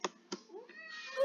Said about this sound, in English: she's just like meowing